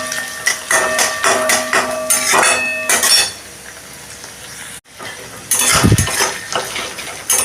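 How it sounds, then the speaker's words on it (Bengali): Ginger-garlic paste being stirred and sautéed in a pan for a Bengali egg keema, with metal utensil clinks and scraping against steady sizzling, a brief quiet pause, then a louder burst of stirring. "আবারও এটাকে আমি আদা রসুনের কাঁচা গন্ধটা যাতে চলে যায়, আবারও এটাকে আমি ভালো করে কষিয়ে নেব"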